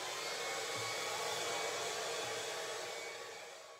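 Hair dryer blowing steadily close by to heat bleached hair, a continuous loud airy rush with a faint low hum, alone and tapering slightly at the end.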